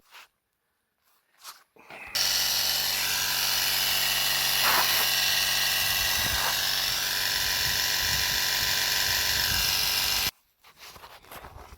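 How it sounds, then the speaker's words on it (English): A small 12-volt tire pump on a Suzuki King Quad ATV buzzes loudly and steadily for about eight seconds, then cuts off, with brief rustling handling noises before and after. "So I've got a little 12-volt pump, so I'm going to try the 12-volt outlet on this thing"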